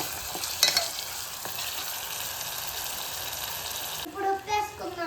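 Mutton legs and potatoes sizzle and fry in a pan, with a clatter of stirring near the start and brief scraping strokes toward the end, steady and close throughout.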